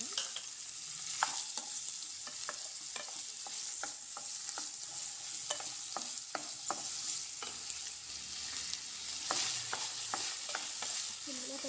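Sliced ivy gourd and onions fry in a pan with a soft continuous sizzle, punctuated by repeated spatula scrapes and stirring clicks at an irregular rhythm, close up and fairly quiet.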